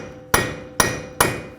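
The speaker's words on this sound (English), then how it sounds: "Just take a punch and a hammer. Just give it a couple taps." Three sharp metallic strikes ring out as a hammer taps a punch against the front axle in a 2013-19 Ford Police Interceptor wheel hub assembly. The blows come about half a second apart, loud and close, each decaying briefly.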